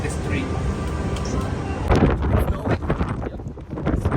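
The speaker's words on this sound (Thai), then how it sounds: "ลมแรงมาก" Strong wind buffets the microphone outside a casino hotel with a constant low roar and gusting rumble, while voices talk over it and footsteps or knocks clatter in the second half.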